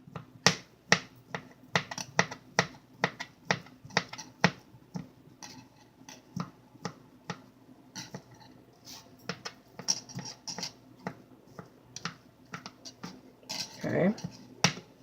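A knife chops food finely on a cutting board for shrimp, chicken and crab fettuccine Alfredo, with quick, irregular close taps that continue throughout.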